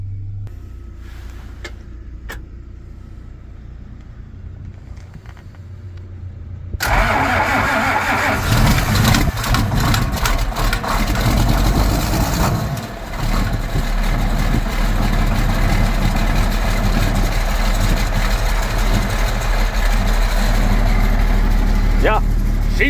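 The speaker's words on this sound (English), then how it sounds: "I guess we're going to get a true cold start off the old 4430 this morning." Cold start of an old John Deere 4430 tractor: the diesel fires abruptly after a quiet moment, then runs loud and rough at a steady idle with clattering, close by.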